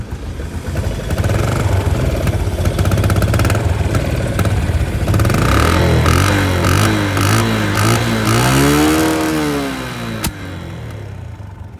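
A Yamaha Spark 135cc four-valve motorcycle with a stock engine, kick-started, runs close by with a throaty idle, then revs up and down in several rising and falling sweeps before settling back and cutting off near the end.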